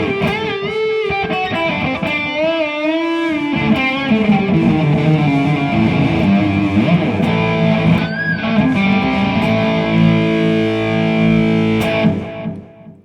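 Electric guitar lead through distortion and delay effects, heard as sustained, bending notes that ring continuously and fairly loud for about twelve seconds before cutting off.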